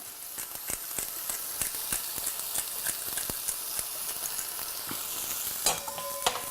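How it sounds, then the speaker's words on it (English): Lamb shanks seasoned with salt and cracked pepper brown slowly in a pan over a medium-high flame, producing a constant soft sizzle with scattered pops and crackles. "On a medium-high flame, nice and slowly, until the lamb shank are in both sides is nice and browned."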